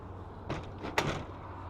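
A front door opens with a short burst of handle and latch clicks, then a brief rattle and a sharper knock as it swings, fairly close and quiet, no talking.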